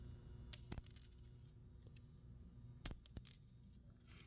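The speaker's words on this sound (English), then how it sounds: "Now listen to the silver dime." Two separate drops of a silver dime coin, each a close, bright ringing clink with a few quick bounces, separated by quiet, with no talk.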